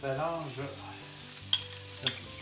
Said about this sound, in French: On va rajouter l'ail dans notre plat